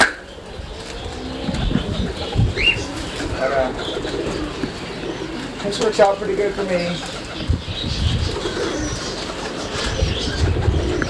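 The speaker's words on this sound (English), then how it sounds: "I raise cockatiels and doves" Doves coo among cockatiels in a breeder's aviary, the soft calls rising through a busy backdrop of bird chatter and rustling, while someone talks over it nearby.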